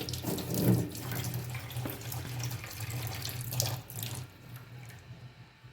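Tap water runs steadily into a sink while goat mutton is washed under it, a close splashing flow that fades out near the end.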